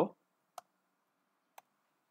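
Computer mouse clicked during AutoCAD 3D modeling of a rack and pinion gear: two sharp, isolated clicks about a second apart after a brief opening blip, close and quiet in an otherwise silent room.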